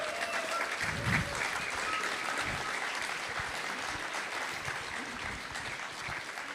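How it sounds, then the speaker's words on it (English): An audience claps steadily and loudly at an evening talk event, a dense, continuous wash of applause that holds throughout with a slight swell early on. "Give a big applause to him, please."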